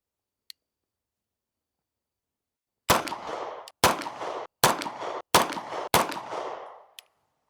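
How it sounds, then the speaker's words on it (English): Five sharp pistol shots from a Langdon handgun ring out in an irregular sequence, each loud crack trailing a brief echo, after a short silence and a single faint click. "Right side, 5 shots with the Langdon."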